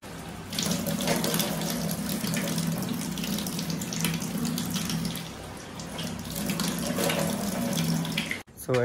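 A bathroom water tap runs steadily for a morning face wash, a continuous close splashing rush that stops abruptly near the end, with a faint voice briefly underneath.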